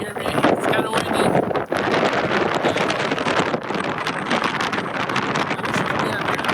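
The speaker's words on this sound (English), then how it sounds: "It's kind of windy." Strong gusts roar against the microphone in a continuous rumble on the summit of South Sister volcano in Oregon, with someone talking under the noise.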